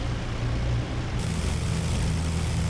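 Avro Lancaster bomber engines idling while the aircraft waits to taxi, a steady loud droning rumble with constant low throb throughout and no voices.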